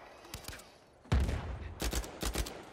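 Submachine gun fire in an Uncharted 4 multiplayer match: a couple of faint shots, then several short rapid bursts with sharp cracks and booming low thumps, moderately close, no voices.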